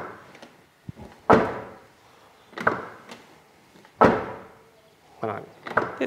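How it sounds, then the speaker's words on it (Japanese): A Daihatsu Hijet Jumbo kei truck door is shut with its rubber seal removed, giving three sharp, loud metallic slams spaced a few seconds apart, with lighter clunks and rattles in between. "このゴムがついてない時のドアの閉め具合の音を聞いてみましょう"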